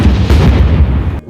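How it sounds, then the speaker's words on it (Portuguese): A rapid burst of sharp gunshots from light weapons, loud and close, firing continuously for about a second before cutting off abruptly. "vários tiros de armas ligeiros"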